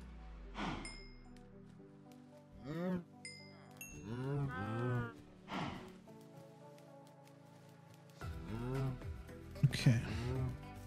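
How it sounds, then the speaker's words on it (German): Cows in the video game Minecraft give several drawn-out moos, spaced apart and fairly clear, with small glassy clinks between calls and some quiet talk. "unsere Kühe nochmal ganz kurz eben ein bisschen paaren"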